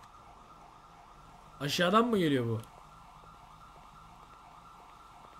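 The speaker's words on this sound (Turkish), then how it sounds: "Sirenler sen. çalmaya başladı lan bir anda" A police or emergency siren in a role-play video game wails briefly and loudly in a rising-falling sweep over quiet background hum, while someone speaks.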